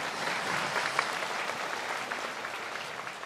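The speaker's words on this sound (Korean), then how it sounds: "박수" Steady applause from an audience at a Buddha's Birthday ceremony, dense and even clapping that carries on without pause for the whole stretch.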